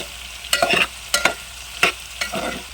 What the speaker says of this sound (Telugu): మునక్కాయలోకి ఇలా మనం బాగా కలుపుకోవాలండి